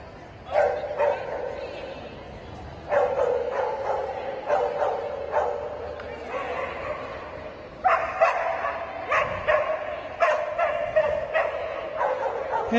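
A dog barks and yips repeatedly in bursts during a dog agility snooker run, loud and close, with short pauses between volleys and a voice faintly underneath.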